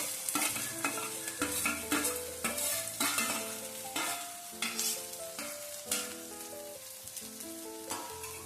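Onion, ginger, green chili and garlic tossed into hot oil with popped mustard seeds, frying with a loud continuous sizzle and repeated stirring scrapes for a prawn curry, with a melodic background tune running throughout and no talk.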